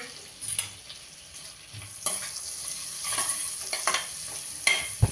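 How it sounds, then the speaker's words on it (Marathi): Cinnamon pieces, bay leaves, star anise and cumin temper in hot oil over a low flame, giving a steady sizzle and crackle with several sharp pops and stirring scrapes, close and without talk. "फोडणी आपल्याला जळू द्यायची नाहीये"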